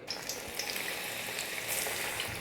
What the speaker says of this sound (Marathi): मीडियम टेम्परेचरवर आपल्याला फ्राय करून घ्यायचे दोन्ही बाजूने।